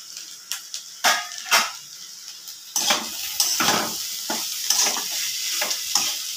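Bitter gourd added to hot oil crackles and sizzles in a pan, with bursts of spattering, scraping spatula strokes and clanking against the metal pan, close and fairly loud, with no voices.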